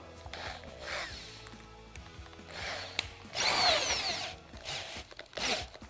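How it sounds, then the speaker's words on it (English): A power drill fitted with a small-diameter bit whirs in several bursts during jet ski engine repair, rising and falling in pitch, with a louder, longer run in the middle and short stops between. "I'm going to use this in my drill."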